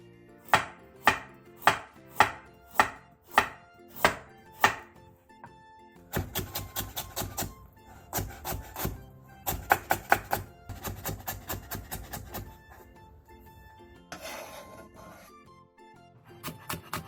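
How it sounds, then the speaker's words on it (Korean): A knife julienning onion and carrot taps on a cutting board in a home kitchen. A slow, even run of single chops gives way to quicker clustered bursts of rapid slicing, crisp and close, with no talk. "양파 4분의 1개와 당근 조금도 얇게 채 썰어주세요."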